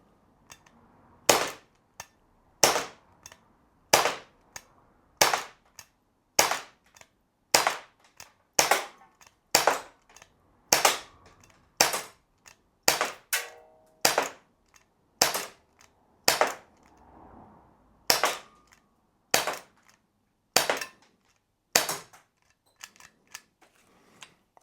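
A Glock 17 Gen 5 BB blowback airgun fires a long string of sharp, loud snapping shots with a metallic slide clack, spaced roughly a second apart in a steady rhythm, with one brief pause partway through and no talk.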